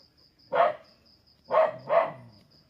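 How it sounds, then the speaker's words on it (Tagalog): A dog barks three times, one sharp bark then a quick pair a second later, fairly close in an otherwise quiet room with a faint steady high hum. "Yun ang aso."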